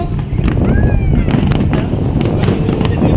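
New Year fireworks barrage booming continuously, a dense rumble of explosions with sharp cracks and whistling rising streaks, heard from a distance outdoors, with faint voices in the background.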